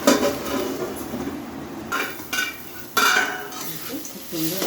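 Crab and bottle gourd curry stirred in a pot, with irregular scraping and clinking of a utensil against the metal, a few louder knocks near the start and middle, close and moderately loud over a low simmer.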